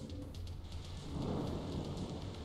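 Rain and rumbling thunder from a rain dance in the video game Castle Crashers, a steady wash of rainfall with a low roll swelling midway, fairly quiet and with no voices over it.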